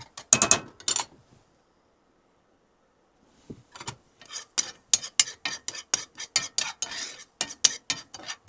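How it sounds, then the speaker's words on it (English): A utensil scrapes and clinks against a hot pan while chilies are stirred, a quick burst, then a pause of near silence, then a rapid run of sharp, close scraping strokes. "You really want to keep stirring them constantly."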